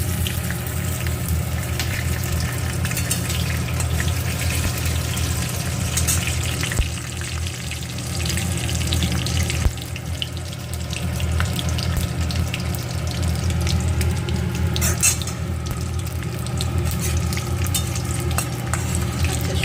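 Black cumin seeds with a dried red chili and a green chili frying in hot oil, giving a steady dense crackle and sizzle that runs unbroken throughout, with faint stirring clinks and no talk.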